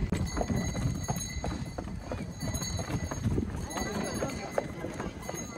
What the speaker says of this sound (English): this is a real live sleigh ride with a horse and an authentic driver